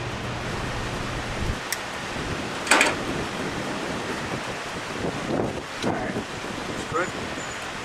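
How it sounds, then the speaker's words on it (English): Wind blows steadily across an outdoor microphone during MIG welding of 1/4-inch steel with a Lincoln Pro MIG 140, a continuous rushing buffet with a few brief louder gusts. "I got wind blowing."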